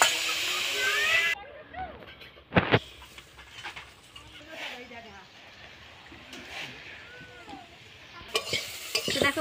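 Banana stem (thor) frying in a covered pot over a village clay stove, a steady close sizzle with occasional clatter of the lid and utensils; voices murmur faintly in the background.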